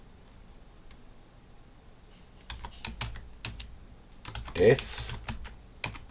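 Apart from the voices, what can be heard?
typing on a computer keyboard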